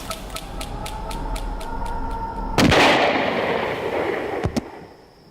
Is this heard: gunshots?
yes